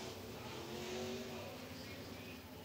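Modified race cars circling the track as they file into line, engines droning at a steady mid-distance, with faint rises in revving.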